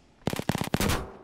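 A short burst of rapid automatic gunfire in a video game, about a dozen closely spaced loud shots over roughly three quarters of a second, close and alone, then a brief tail.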